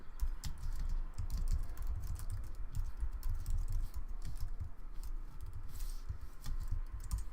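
Steady, rapid typing on a computer keyboard while a for-loop macro is entered in a code editor, close and continuous with dense clustered key clacks and no talking.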